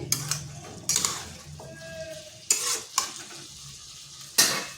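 Fried pointed gourd (potol) being stirred into a spice mixture in a pan: a soft sizzle under a few sharp scrapes and clinks of a utensil against the pan, close and intermittent, with no talking.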